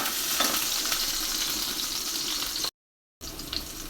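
Kalai greens fry in oil with onion, green chilies and dried chilies, giving a loud continuous sizzle close up that cuts out briefly near the end and then resumes, with no talking.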